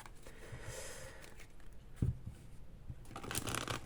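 Tarot cards handled and shuffled at close range, a soft papery riffle and rustle with one sharper slap midway and a busier flurry of card noise near the end.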